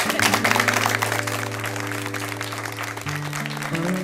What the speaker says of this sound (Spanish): Pues se merece un aplauso